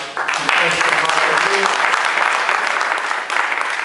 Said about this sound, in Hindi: मैं अपनी तरफ से चाहूंगा कि आप अभिजीत सिंह जी का जोरदार तालियों से आप